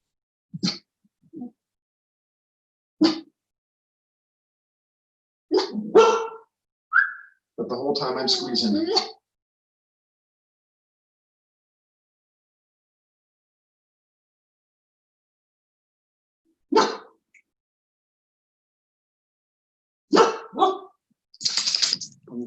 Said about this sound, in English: And my dog barks.